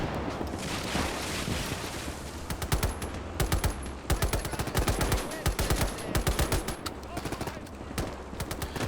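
Machine gun fire in Gates of Hell, a WWII battle in snow at the Mannerheim Line, long rattling bursts of rapid shots over a dense rumble of distant gunfire and battle noise.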